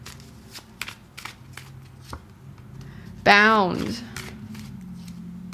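Oracle cards being shuffled by hand: a quick burst of riffling near the start, then a second crisp, louder riffle that trails off, with a few soft card taps and a brief spoken word.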